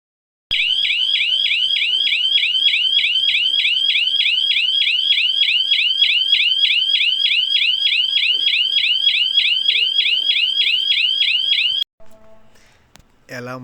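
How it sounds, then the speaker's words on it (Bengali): A shop burglar alarm set off by a break-in shrieks loud and close with a rapid, continuous warbling pulse for about eleven seconds before cutting off, followed by brief muffled noises. "তারপরে প্রবেশ করার পর এখানে প্রচুর জোরে অ্যালার্ম বাজে।"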